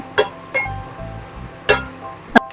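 Onion frying in a pan gives a soft steady sizzle, broken by a few sharp clinks and scrapes of a utensil against the pan.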